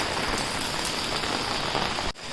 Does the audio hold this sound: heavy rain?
yes